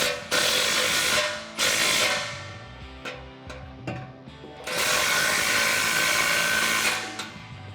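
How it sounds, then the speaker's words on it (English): A 16mm socket on a power driver tightens exhaust clamps on a 2009-2018 RAM 1500 5.7L dual exhaust, in several whirring bursts of a few seconds each with short rattling pauses between, close and moderately loud. "I'm going to use a 16mm socket to tighten down both of those clamps"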